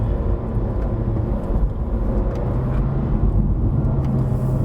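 A 2020 Honda Civic 1.5 turbo engine drones steadily while climbing a hill road in D mode, with deep continuous cabin rumble and road noise, loud and close, with no talking.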